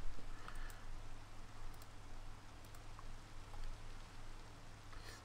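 Steady Minecraft rain from the Modern SkyBlock 3 modpack, a continuous soft hiss with scattered light patter and faint ticks, unbroken and moderately quiet throughout with no talking.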